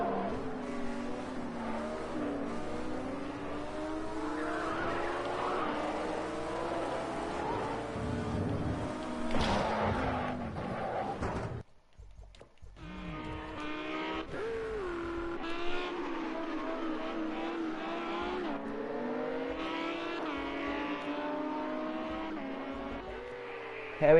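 Ferrari and Lamborghini race cars roar around the Nürburgring GP circuit in a racing video game, engines whining and shifting pitch continuously, with a short drop in sound midway before the high revving resumes.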